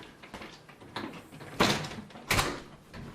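A front door being shut: a few soft knocks and rustles lead into two louder thuds of the door closing, close by in a quiet indoor room.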